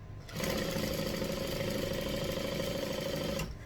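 A sewing machine back stitches quilt binding in a steady, even mechanical whir that starts quickly, holds for about three seconds, then stops.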